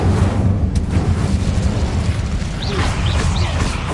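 Incendio fire spell cast in Hogwarts Legacy, a loud roaring whoosh of flame with rumbling low end that sustains across the clip, with small chirping effects near the end and no talking.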